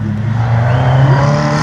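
Race car number 250, a French slalom champion, drives on a slalom course with a loud, close engine drone that builds slightly in pitch as it accelerates.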